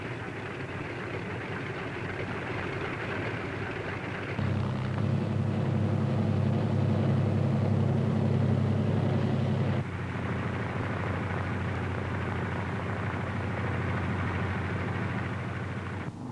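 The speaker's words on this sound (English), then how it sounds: "other C-47s move into position for their takeoff at the head of the runway." Piston engines of C-47 transport aircraft rumble steadily as the planes taxi into position at the head of a runway for a 1944 D-Day paratrooper takeoff, a loud low drone that swells midway and then eases back.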